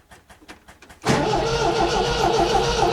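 A car engine fitted with a Weber carburetor and automatic choke, unrun for months, cranks with a few rapid starter pulses for about a second, then catches and settles into a loud, steady run.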